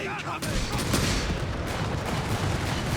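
German mortar barrages in the Company of Heroes 3 battle, a dense, continuous rumble of booms and crackling detonations that fills the whole stretch, with a commentator's voice running underneath.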